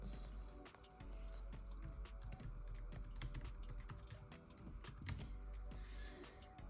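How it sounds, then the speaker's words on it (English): Soft, rapid tapping on a computer keyboard, irregular clicks at a quiet level over a low steady hum. "I'm typing with one hand"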